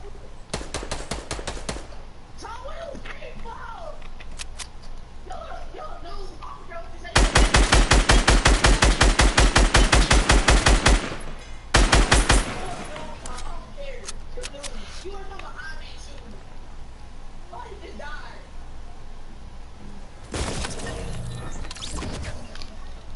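Rapid bursts of automatic gunfire in a video game, a long loud stretch of machine-gun fire followed by shorter bursts, with a person talking throughout.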